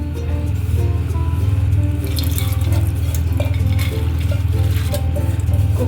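Water poured into a pressure cooker holding soaked toor dal, a continuous close splashing, gurgling fill with no talking.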